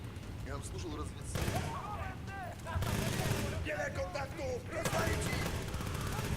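Rapid-firing suppressed gun in Battlefield: Bad Company 2, with bursts of quick shots that come in distinct loud waves, mixed with game effects and someone talking.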